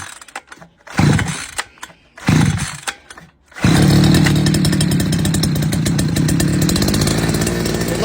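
Petrol brush cutter being primed and pull-started, a few short cord-pull bursts, then the engine catches and runs with a loud, steady, rough buzz that continues to the end.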